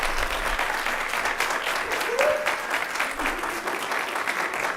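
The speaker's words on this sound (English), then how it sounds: "let's just give a round of applause for all these scholars" Audience at a work session giving a round of applause for scholars, sustained dense clapping from many people at steady volume, with faint voices underneath.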